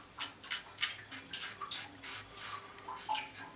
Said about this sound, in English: Can you hear that over the dripping toilet?